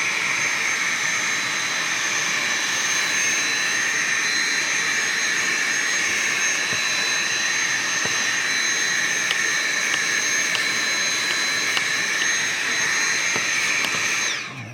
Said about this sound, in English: Let me get this vacuumed up